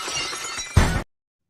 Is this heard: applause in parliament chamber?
no